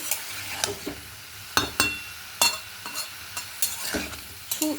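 Ridge gourd stirred in a frying pan as it releases water, a spatula scraping in irregular strokes over a steady soft sizzle, close and fairly quiet with no talk.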